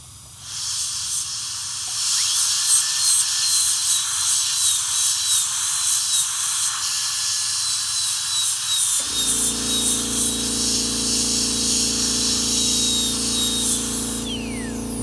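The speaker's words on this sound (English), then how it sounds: "we can just run the burr like this. This actually smoothens the margins." A high-speed dental handpiece runs a burr to smooth the margins of a tooth preparation, a sustained shrill whine and hiss lasting many seconds, its tone shifting partway through and continuing steadily to a stop.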